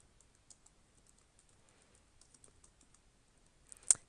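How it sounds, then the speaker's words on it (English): Quiet, scattered keystrokes on a computer keyboard tap out a heading, irregular and soft, ending with a sharper, louder key press near the close. "Firstly, let's type up our heading."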